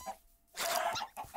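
Chickens cluck in Minecraft as foxes pounce on them, a short burst of game-animal clucks rising loud in the middle after a quiet gap, with a brief chirp near the end.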